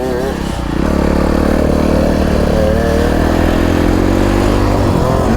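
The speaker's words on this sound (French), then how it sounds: "La moto elle est moins violente." A motocross motorcycle engine revs steadily and loudly at close range, with a rough, sustained drone and a brief dip near the start.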